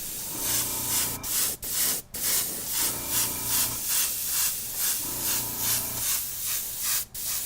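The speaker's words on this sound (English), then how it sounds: "I like to spray it somewhere else before I shoot it on the actual shoe." An airbrush sprays Liquid Kicks paint onto a test surface before a Jordan 3 midsole repaint, giving a steady hissing spray in repeated short bursts with brief pauses between them.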